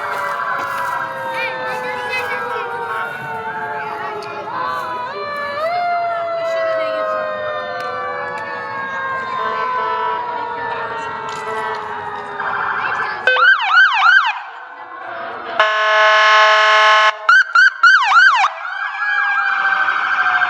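Several fire and emergency vehicle sirens at a firemen's parade in Front Royal wail and yelp together, loud and close, with rising and falling tones overlapping, then sharp bursts of electronic yelping toward the end.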